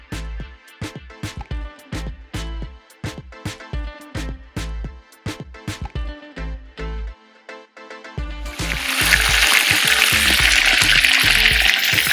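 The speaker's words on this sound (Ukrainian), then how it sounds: "курочка наша жариться." Chicken wings fry in a cast-iron pot while a utensil scrapes and taps the metal in quick, uneven strokes. After a few seconds a loud, steady sizzle rises and covers the tapping.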